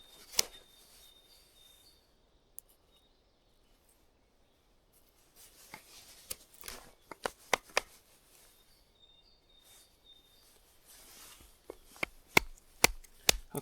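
A knife carving a wooden spoon outdoors, sharp scraping and chopping cuts of the blade against wood coming in irregular bursts with quiet pauses between, close and fairly faint.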